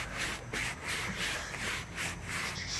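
Car interior being scrubbed before painting, a close rhythmic rubbing and brushing sound in quick repeated strokes.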